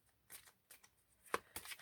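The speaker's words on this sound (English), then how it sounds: "Just the extra quick shuffle." A deck of cards shuffled quickly by hand during a tarot reading, several short crisp riffling bursts in quick succession, close and quiet with no talking.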